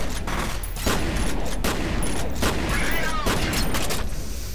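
Bursts of rapid gunfire in the video game F.E.A.R. 3 crackle repeatedly over a steady noisy background, several volleys in quick succession, loud and close.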